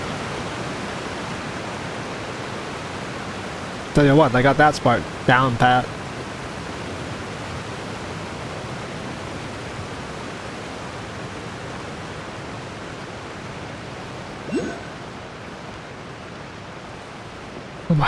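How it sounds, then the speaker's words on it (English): Steady, dense rushing of a waterfall in the video game Genshin Impact fills the whole stretch, loud and unbroken, with a brief burst of talking partway through. "At least they got the sound of a waterfall correct"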